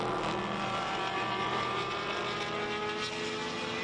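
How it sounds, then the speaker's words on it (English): Race cars on the back straight of a circuit, a continuous distant engine roar with a passing car rising and fading, steady and without commentary. "Down the back straight, a couple other cars going through there."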